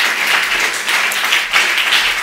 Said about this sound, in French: applaudis le Seigneur de gloire applaudis le Seigneur plus fort